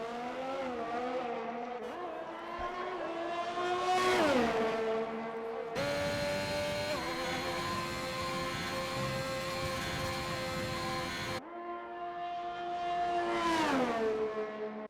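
A race car engine in a sim racing game on a hot lap at a Belgian circuit rises through loud revving gear pulls with sharp upshifts and lift-offs, while a commentator talks over it.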